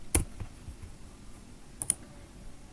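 A couple of sharp, close key clicks on a computer keyboard, one near the start and a quick double tap near the end, with faint room hiss between.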